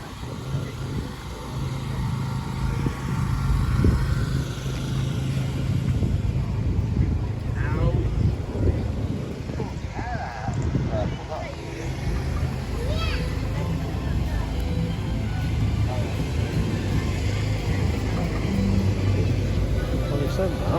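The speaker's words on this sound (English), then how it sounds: "But the Merlin engine is about to fire up" A Rolls-Royce Merlin aircraft engine runs at an outdoor live show on a field, a loud, steady low rumble that holds throughout, with crowd chatter and voices heard underneath.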